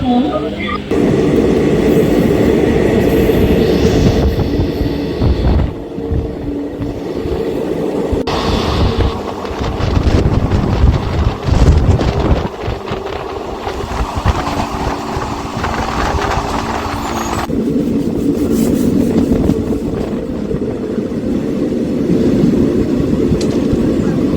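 A Mangaluru–Kozhikode express train departing Vadakara railway station rumbles past loudly and continuously, a heavy roar of wheels and carriages on rails that stays close and steady throughout.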